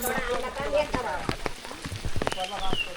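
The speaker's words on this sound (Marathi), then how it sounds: "चांगला सुरू झाला पाऊस" Rain falls in patters and drips during a Konkan Railway train journey, irregular taps and splashes close by, with voices and other noise mixed in.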